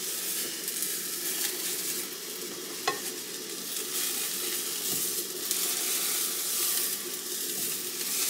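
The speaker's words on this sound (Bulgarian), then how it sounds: "завивам палачинката, докато е в тигана." A thin pancake sizzles steadily in a frying pan, with a continuous hissing crackle and a couple of soft scraping taps from a spatula as it is rolled.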